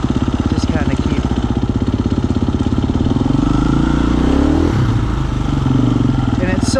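A 2022 KTM 350 EXCF dirt bike fitted with a GET SX1 ECU, its engine chugging at low revs while being ridden slowly with the brake dragged, a steady close-up thumping that swells slightly midway.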